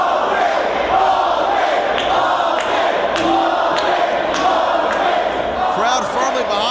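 A wrestling arena crowd cheers loudly and continuously during a ladder match, a thick wall of voices with sharp slams and thuds punctuating it, while a commentator talks over the noise.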